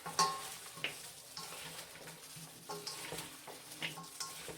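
Shredded cabbage being tossed and mixed by hand with fish sauce, chili powder and seasoned salt, giving soft, irregular wet rustles and squelches at close range, fairly quiet, with no voices.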